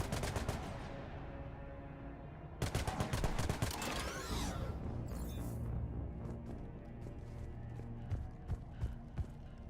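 Heavy gunfire erupts in a Mass Effect 3 finale battle, a dense barrage of rapid shots in two bursts followed by scattered sharp reports and rumbling combat noise.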